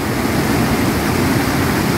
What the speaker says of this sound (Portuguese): E olha que cachoeira linda!